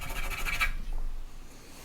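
A pencil scratches roughly across paper while shading orange fur, a close, dry, rasping scribble lasting under a second before fading into quieter rubbing.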